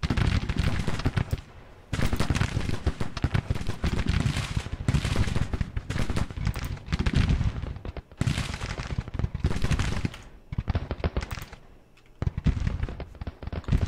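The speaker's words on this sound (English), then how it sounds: "These guns firing." Cannon and rifle fire in a Civil War battle game: dense, loud, nearly continuous volleys of gunshots and booming artillery in bursts, with only brief pauses between them.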